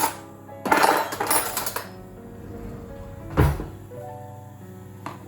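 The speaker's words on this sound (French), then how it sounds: "Donc, je prends une cuillère." Metal spoon taken from a utensil holder in a home brewing kitchen beside boiling water: a rattling clatter of metal, a pause, then a sharp clink, and a faint tap near the end.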